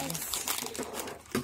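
Crinkling of a plastic Chupa Chups packet being handled close by during unboxing, with brief talk and rustling throughout.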